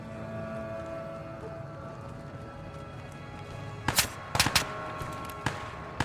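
Gunfire in Fallout New Vegas, a few sharp rapid bursts of shots, distinct and fairly near, over a quiet hum of game ambience.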